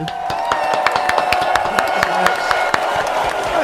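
Studio audience and guests clap during a birthday greeting on a podcast, a series of sharp, uneven claps over steady background noise, with voices present.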